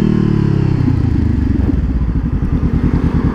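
A Honda CBR500R motorcycle engine runs steadily while being ridden, a loud close droning rumble with a rhythmic pulsing that quickens slightly toward the end, heard alone without speech.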